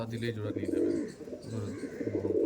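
Repeated low cooing from Andhra and Chennai Madras pigeons, steady and close, with a voice mixed in at times.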